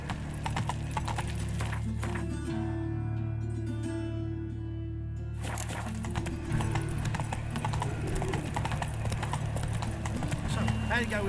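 Roach the horse galloping in The Witcher 3, rapid rhythmic hoofbeats with neighing, loud and close, under shouted game dialogue and a player talking.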